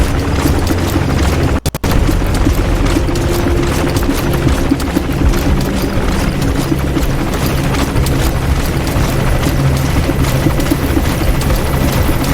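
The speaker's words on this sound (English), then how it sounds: "I'd like it if this helicopter would just go the fuck away." Helicopter hovering overhead in Metal Gear Solid 5, a steady loud rotor drone with dense rumbling texture and a brief sharp break near the start.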